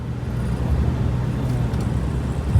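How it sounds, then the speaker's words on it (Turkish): Heavy road traffic on a rainy evening gives a continuous low rumble of engines and tyres, steady and fairly close, with no distinct passing vehicle standing out. "Yoğun bir trafik."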